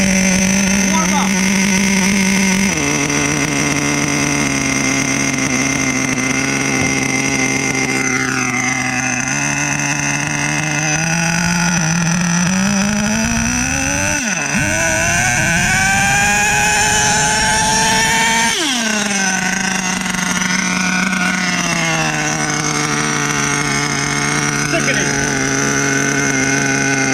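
A nitro engine in an HPI Savage 21 RC truck warms up, a loud, buzzy high-pitched drone that rises and falls as the throttle is blipped, running continuously up close with voices talking over it.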